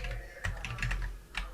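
A few quick keystrokes tap on a computer keyboard at a command line, close and light, spaced unevenly over a low background hum.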